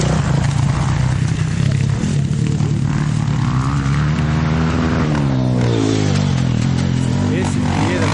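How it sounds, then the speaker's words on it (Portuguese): A motorcycle engine drones loud and close with a steady low hum, rising in pitch in a sweeping rev partway through before settling again. "Dá até medo de andar com essa moto."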